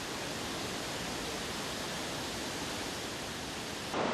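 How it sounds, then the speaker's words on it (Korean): Galovački waterfall in Croatia roars in a dense, even wash of rushing water heard up close, steady throughout with a slight swell at the end. "청량한 물소리를 내는 갈로바츠키 폭포입니다."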